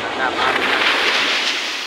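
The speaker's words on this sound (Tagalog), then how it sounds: "Medyo may alon na ngayon, no? Nagkakaroon na po siya ng alon." Sea waves wash in at a beach with a steady broadband surf roar and some wind buffeting, fairly loud and continuous with no distinct breaks.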